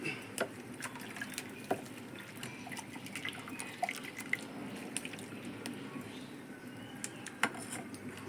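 Boiled water splashes and trickles steadily into a pot of mackerel curry, with scattered drips over a soft, continuous background hiss.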